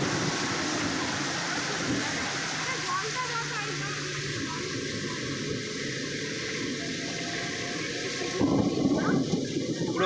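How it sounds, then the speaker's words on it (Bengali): Heavy rain pouring at a waterlogged Didi No.1 audition venue, a loud, continuous wash of noise that swells near the end, with voices faintly mixed into it. "প্রচুর বৃষ্টি হচ্ছে"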